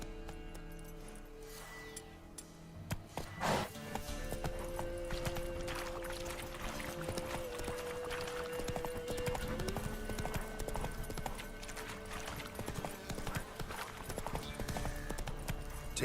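A horse trots in The Witcher 3, its hooves clip-clopping in a steady, even rhythm beneath game music after a brief spoken command near the start.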